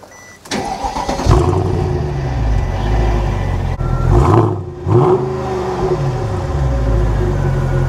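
A Mercedes S63 AMG limousine engine cranks and fires into a loud, close idle, then gives two throaty revs before settling back to a steady rumble.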